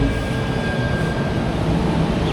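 A loud, steady rumble of a train arriving at a station in Brisbane, with a continuous low roar and faint squealing tones and no pauses.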